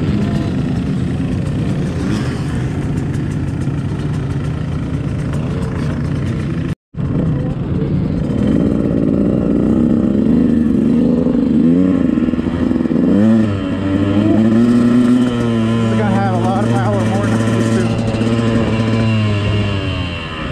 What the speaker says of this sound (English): This is the 200RR two-stroke.